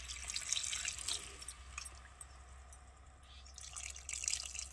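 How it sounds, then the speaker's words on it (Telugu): Tamarind water pours into a pan of drumstick curry, a soft, quiet trickle and splash of liquid that swells, eases off, then rises again, with no talk. "ఇప్పుడు నెక్స్ట్ వచ్చేసి దాంట్లో చింతపండు నీళ్ళు అయితే వేయాలండి."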